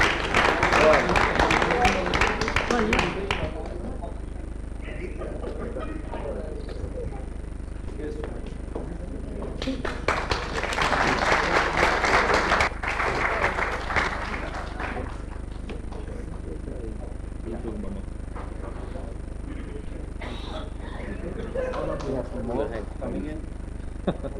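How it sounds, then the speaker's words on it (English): Bursts of clapping from a crowd at an awards event rise and fall, loud at first, then again midway, fading into scattered claps and murmurs. "Round of applause"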